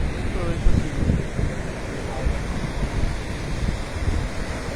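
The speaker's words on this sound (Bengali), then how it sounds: "জলে বড় বড় করে ঢেউ আসছে" Big ocean waves surge at Bheemili beach amid a strong current, a steady broadband wash of surf with wind rumble against the microphone, continuous and fairly loud throughout.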